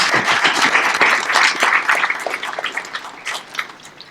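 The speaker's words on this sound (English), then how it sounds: "Now, yes, you can clap for that." Crowd applause at a US Air Force Basic Military Training graduation ceremony, a dense wash of many hands clapping at full strength, then thinning and fading toward the end.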